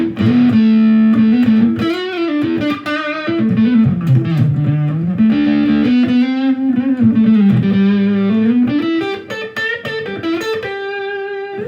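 Electric guitar played through a distortion pedal into a bass amp, front pickup, with a thick, buzzing tone. A continuous melodic line bends and shifts pitch, loud and up close.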